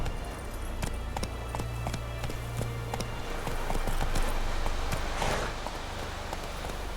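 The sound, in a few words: horse Roach galloping in the video game Witcher 3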